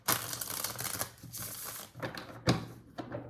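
Tarot cards being shuffled close up in quick crisp riffling bursts, a few separate flurries with short pauses between, alone with no talking.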